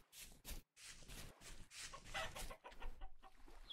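A hen in the survival game Vintage Story clucks in a run of quick, close, fairly loud bursts over a busy ambient background.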